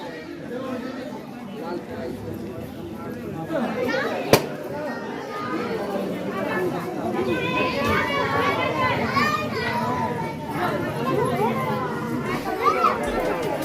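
A crowd at Kera Devi temple in Kerakhas: a steady hubbub of many voices, with children chattering and playing close by and a single sharp click partway through.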